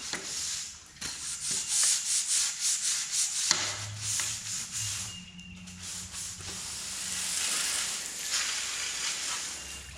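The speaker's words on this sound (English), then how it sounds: "Just going to use a brush and some simple green on here." A brush with Simple Green cleaner scrubs an aluminum frame in close, rhythmic strokes that give a wet, hissing rasp, with brief pauses between passes and a longer, steadier scrub toward the end.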